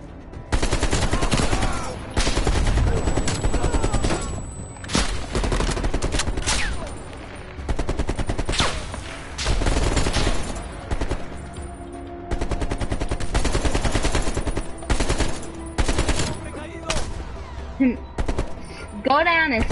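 Rapid bursts of automatic gunfire from a Call of Duty Cold War campaign firefight, loud and dense with repeated volleys and short pauses across the whole stretch, voices faintly mixed in.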